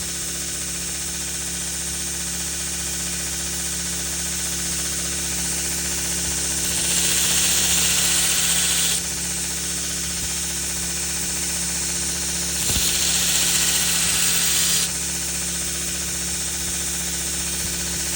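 Belt grinder running steadily while a knife bevel is ground freehand, a constant whirring hum with two distinct hissing, scratchy passes as the blade meets the belt.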